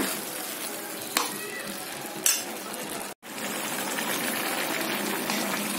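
Grated carrots cooking in milk in a pan for gajar halwa make a steady bubbling hiss throughout, broken by a couple of sharp utensil clinks and one brief dropout.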